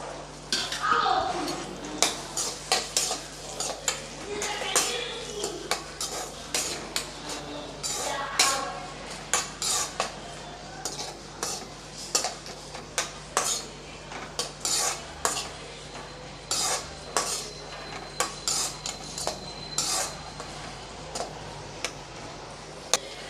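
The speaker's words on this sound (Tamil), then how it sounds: "வெங்காயம் நல்லா வதக்கி விட்டுறலாம்" Chopped large onions stirred in a pan of oil, with frequent sharp scrapes and clinks of a metal spoon against the pan over a soft background sizzle, close and moderately loud.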